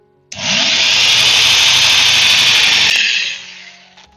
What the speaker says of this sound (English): Let's drill away, and be careful that it doesn't, slip away onto the canvas itself.